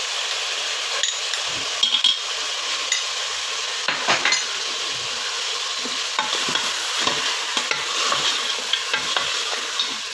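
Mutton sizzles steadily in a hot karahi with ginger, garlic and green chilli paste while a spoon scrapes and stirs through it, with occasional metallic clinks against the pot.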